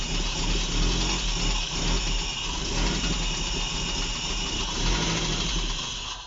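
A car engine bought in for repair, with electrical issues and running on propane gas, idles steadily just after startup, a constant close rumble with slight knocking vibration and no talk.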